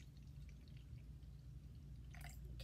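Water being poured into a bottle, filled a little over half full for a butterfly feeder: a steady, soft liquid trickle throughout, with a brief brighter splash near the end.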